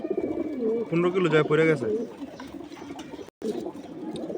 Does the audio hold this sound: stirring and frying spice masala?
no